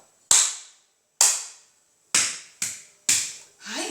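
Five sharp, loud hand claps from a body-percussion demonstration, spaced irregularly with short gaps, each a crisp dry crack that decays quickly, heard alone without talk.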